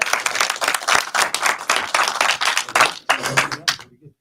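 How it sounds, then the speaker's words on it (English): A demo night audience bursts into loud, dense applause up close, with some voices mixed in, then the clapping breaks off abruptly into silence. "Big round of applause."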